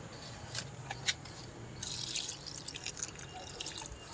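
Water is poured into potted money plants, producing faint drips and a soft trickle, quiet and close against low background noise.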